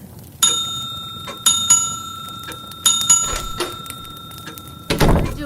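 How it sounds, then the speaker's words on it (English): A hotel front desk bell is struck repeatedly, four or five bright metallic dings with ringing tails at uneven intervals, close and clear, followed by a brief rustle or thump at the end. "don't have to keep ringing the damn bell."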